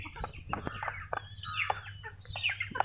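Crested hens and a rooster in a country-style backyard flock cluck close by, with several overlapping short calls and a few sharper squawks over a low steady hum.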